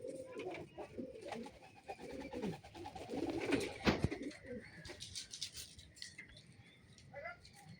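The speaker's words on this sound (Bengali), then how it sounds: "এই একটা ছাতি পায়রা," Pigeons cooing at a pigeon keeper's home loft, soft repeated throaty coos in rhythmic phrases, fairly close but low in level, with rustling and faint background noise.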